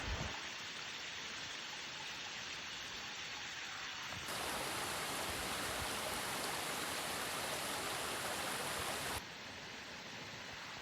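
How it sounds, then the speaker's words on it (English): Nancy Womack Falls on a hiking trail in Big Canoe sends water rushing in a steady, faint hiss that grows a little louder midway and then eases back, with no voices. "So here's this beautiful waterfall on Nancy Womack."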